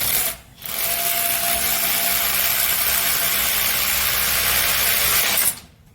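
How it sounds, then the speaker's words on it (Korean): An electric drill bores a hole into the ground at a GTX tunnel construction site, a loud continuous whining grind that runs for about five seconds between short pauses. "드릴로 구멍을 뚫어서 천공을 해보도록 하겠습니다"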